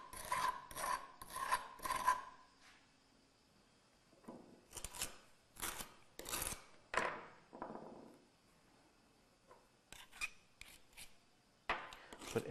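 Soil being scraped out of a container for a plastic limit test, short bursts of harsh rasping scrapes in clusters with quiet gaps between, close and fairly faint.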